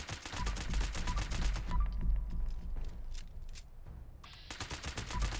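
Pistol shots at a super mutant in Fallout 76, a quick series of sharp shots, a short lull with faint clinks, then another rapid run of shots.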